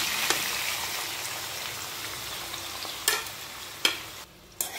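Tomatoes and green chillies hiss in hot oil with a dense, rain-like sizzle, broken by a few sharp clacks of a spoon against the pan during stirring, close and steady.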